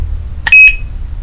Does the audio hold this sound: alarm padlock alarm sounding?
yes